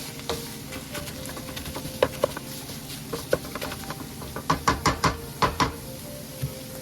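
Meat sauce being stirred in a pan for a red meat pasta, soft sizzling with scattered scraping and tapping of the utensil, clustering into a quick run of knocks near the end.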